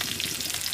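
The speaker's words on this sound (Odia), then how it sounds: "ଜିରା 1 ଚାମଚ ପକାଇଦେବା" Cumin seeds hitting hot oil, a brief, dense hiss of crackling sizzle, close and steady, with no voices.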